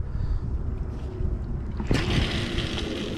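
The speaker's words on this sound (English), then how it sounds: "It figures when I get ready to cast both rods out, this wind picks up." Wind gusting and rushing around a microphone while fishing for catfish from a barge over water, a steady blustery roar that swells louder with a sudden gust partway through.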